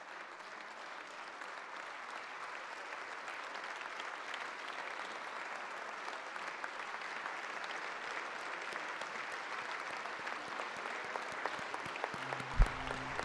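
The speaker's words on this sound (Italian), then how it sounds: "Un applauso ci sembra corale dall'inquadratura che riusciamo a vedere sia alla memoria del giudice Borsellino" Sustained applause fills the Italian Senate chamber in memory of Judge Paolo Borsellino, a steady dense wash of many hands clapping at even volume throughout, heard from a distance with no voices over it.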